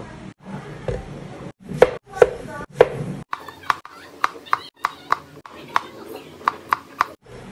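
Tomatoes being chopped on a cutting board for a simple home-cooked dish, a run of sharp, evenly spaced knife taps, close and fairly loud, with a few heavier strikes at first and a voice speaking briefly between them.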